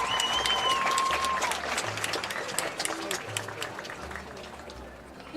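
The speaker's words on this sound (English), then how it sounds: "Let's have a round of applause for Madison Kaiser." Crowd applause for Madison Kaiser at a high school football game, broad and steady, with cheering whistles and a busy outdoor stadium crowd underneath, slowly thinning toward the end.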